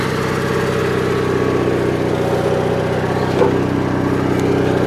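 A Gravely 818 garden tractor engine runs at a steady, loud idle nearby, a continuous droning chug that holds unchanged throughout with no talking.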